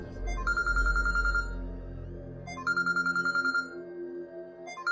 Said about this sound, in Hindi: डॉक्टर आमिर का फोन था।